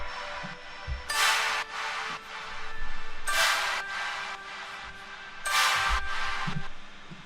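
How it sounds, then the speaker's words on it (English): Layered chord stabs in a pop production, with a violin loop and reverb, hit in three loud, bright bursts spaced a couple of seconds apart, separated by softer tail and quieter background sounds. "So all the chord stabs together sounds like this."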